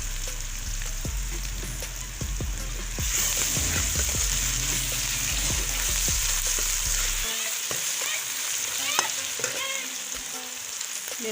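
Garlic ginger paste frying in a pan for a masoor dal and spinach sabzi, a loud steady sizzle with occasional stirring scrapes, the sizzle flaring up partway through and continuing to the end.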